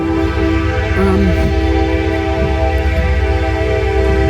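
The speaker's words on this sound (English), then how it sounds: "noisy train" A loud, steady low rumble of a train rolling past close by in Gallitzin, Pennsylvania, with a brief horn-like tone near the start, continuous throughout.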